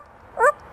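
A parrot imitates a dog's bark, giving a single short, sharp yip, clear and close against quiet surroundings.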